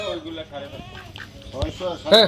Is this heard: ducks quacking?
yes